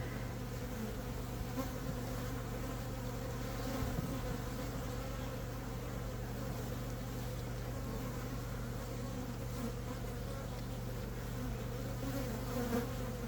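Honeybees in an outyard hive drone in a dense, steady buzz while a frame is checked, a constant close hum with no voices.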